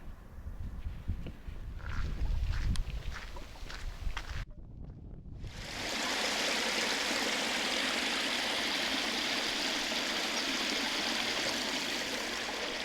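Rain-fed stream at Uluru after days of rain, heard first as mixed outdoor noise with wind, then after a brief gap as a steady, loud broadband rush of flowing water that continues unbroken to the end.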